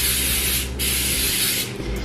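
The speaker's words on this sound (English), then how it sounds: "So this is super simple. I'm just gonna spray." A cooking spray can hisses in two steady bursts onto butternut squash, with a short break between, close to the microphone, with no talking.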